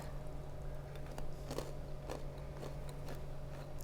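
Crunchy candied nuts, warm straight from the oven, bitten and chewed close up in several soft, crisp crunches spread through a steady low hum.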